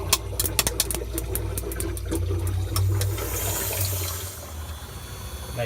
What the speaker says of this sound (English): That gurgling sound is the air in the hose moving around because it's no longer pumping water.